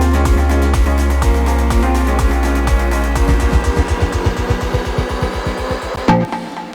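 An electronic kick drum roll builds up over a dance track, deep booming kicks steadily speeding into a dense rapid pulse before a crash-like hit near the end, loud and alone without talk.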